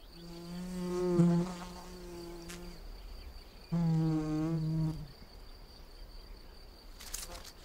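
A mason bee buzzes in flight close by, two loud droning passes with a pause between and a faint hum continuing underneath.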